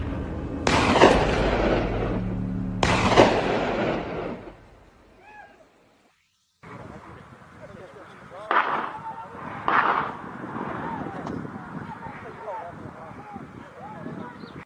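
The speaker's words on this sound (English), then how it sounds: "Gunshots shattered the silence." Two loud rifle shots crack close by a couple of seconds apart during a wild boar hunt, each leaving a booming echo, followed by silence and then outdoor ambience with talking.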